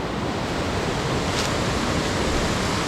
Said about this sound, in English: This creek here is unnamed, and it flows into Finch Hatton Creek.